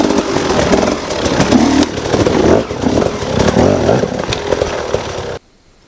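An enduro motorcycle works over rough hard-enduro terrain, its engine buzzing and revving loudly up and down close by with clattering and scraping, then cutting off abruptly near the end.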